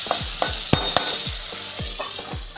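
Diced eggplant frying in oil in a pan, continuous close sizzling broken by repeated spatula strokes and a few sharp metallic taps against the pan, with no speech.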